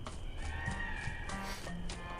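In a video game, Escape from Monkey Island, horse hooves clip-clop along with a carriage rolling, a horse whinnying briefly amid steady game ambience and music.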